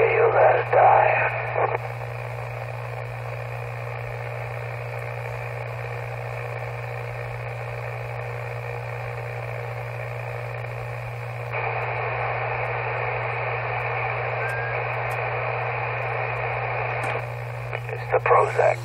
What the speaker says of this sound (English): There it is, the sound of a radio that's dying.